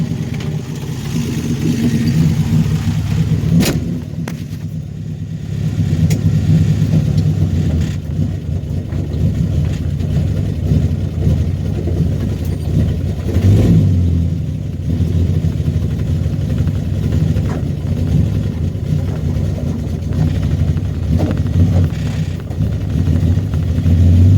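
1966 Dodge Dart GT engine running while driving after sitting since 1985, a steady low rumble with wind noise throughout, loud and close with no talk.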